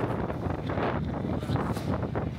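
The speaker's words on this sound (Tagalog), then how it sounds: "parang may bagyo ngayon dito. Kaya malakas yung hangin." Strong gusty storm wind roars against the microphone, a loud continuous buffeting with rising and falling surges and no clear voices.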